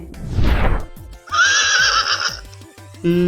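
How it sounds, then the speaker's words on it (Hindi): A horse whinnies loudly, a high shrill neigh trailing off, after a burst of noisy breath, with faint rhythmic clip-clop beneath. "ये घोड़े की आवाज है।"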